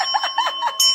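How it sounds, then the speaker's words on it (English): A small bell rings in a short, bright burst of quick repeated chimes with a sustained metallic ring, loud and close, with no talking over it. "A little bell for that."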